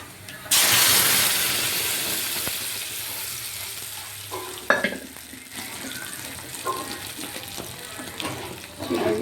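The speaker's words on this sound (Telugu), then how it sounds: "ఇది బాగా ఎర్రగా వేగిపోయింది. ఇంకా పప్పు వేసేద్దామండి." Dal tipped into a hot, well-browned tempering for palak pappu bursts into a loud hissing sizzle, then settles into a softer steady fry with scattered scraping and stirring knocks.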